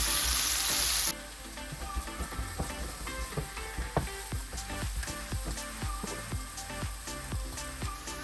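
Banana pieces sautéing in ghee for banana ladoo: after a brief loud hiss, a steady close sizzle continues with repeated soft stirring taps and scrapes, no voices.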